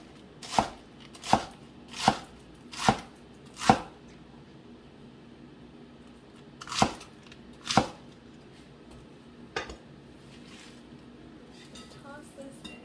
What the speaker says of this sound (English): I'm just going to take my lettuce and rough chop it.